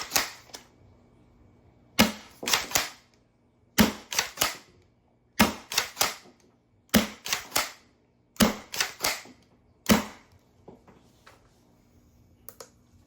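A foam blaster fires 1-gram Worker darts through a Worker SCAR barrel indoors, producing sharp close snapping shots with priming clacks, heard roughly every one to two seconds over several rounds with no one talking.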